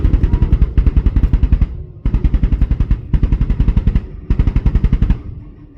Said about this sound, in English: Zulu Viper attack helicopters are entering the objective area to suppress the enemy with rockets and 20mm cannons